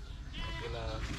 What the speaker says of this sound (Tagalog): Kambing nyo yun? Kambing nyo?